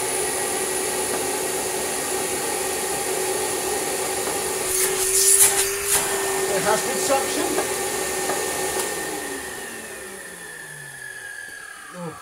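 A rare Hitachi CV-50D upright vacuum cleaner runs with a steady high whine and motor roar, with brief rattling in the middle and a slow wind-down at the end, while someone speaks briefly.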